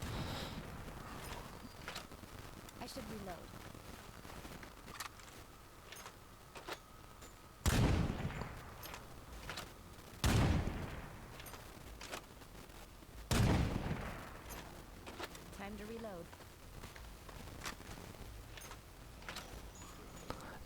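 Three loud gunshots from long-range shooting in State of Decay 2 ring out at spaced intervals over a low, steady game ambience.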